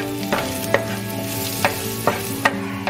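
Steaks go into a hot pan with chopped California chile and garlic, frying with a steady close sizzle broken by several sharp scrapes and clacks of stirring.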